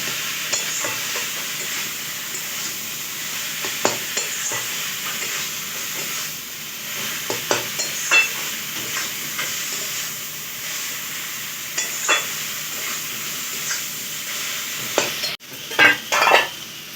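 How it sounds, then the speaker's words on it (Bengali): Papaya ghonto is stirred with ghee in a pan, a steady sizzle running throughout while spatula scrapes and clinks break through at irregular intervals, with a louder cluster of scrapes near the end. "ঘি দিয়ে নাড়িয়ে নেওয়া হলো।"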